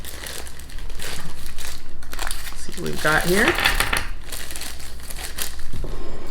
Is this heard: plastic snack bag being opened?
yes